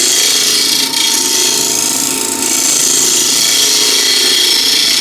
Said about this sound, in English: Now with a round nose scraper, I'm just going to finesse this inside a little bit.